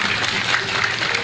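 An audience at an Indonesian talk applauds, a dense, continuous wash of clapping from a crowd, fairly loud and steady for the whole short stretch.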